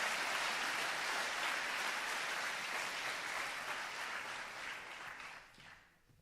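A crowd at a school athletics award ceremony applauds its champions with dense, even clapping that holds steady for several seconds, then tapers off and fades out at the end.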